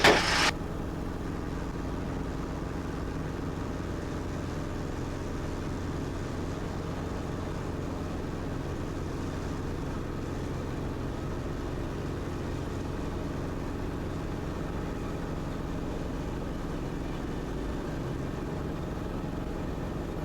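Steady, even rumble and whir of a Cabri G2 helicopter on the ground during a landing, constant and close throughout with a brief louder burst at the very start and no talking.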